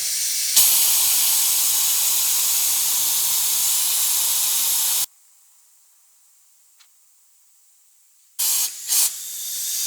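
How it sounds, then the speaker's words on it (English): An air-powered vacuum bleeder pulls brake fluid from a 2005 Toyota Celica GT, its leaking adapter giving a loud steady hiss that cuts off abruptly, followed by near silence and then a few short bursts of air. "So it's gonna show you how quickly this will suck the brake fluid out of there."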